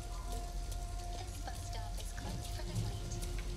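Rain falls steadily in Detroit: Become Human, a soft continuous patter with scattered drip ticks and a low rumbling bed at moderate level, alone with no talk.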